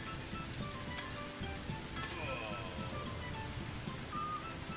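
Steady rain falls in the medieval blacksmith game Anvil Saga, a continuous soft patter and hiss on surfaces that holds at an even level throughout, with a faint tonal game sound briefly rising partway through.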